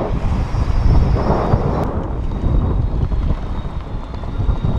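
A small pocket yacht sails fast out of a land cut into open bay water, with strong wind buffeting the microphone over rushing water and hull noise, steady and loud throughout.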